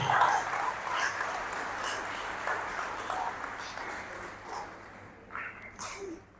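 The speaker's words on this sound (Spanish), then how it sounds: "un aplauso a nuestros sacerdotes de Santa Cruz" Applause from the audience at a Catholic conference, honoring the priests of Santa Cruz, a soft, steady wash of clapping heard from a distance that slowly fades away, with a little talk near the end.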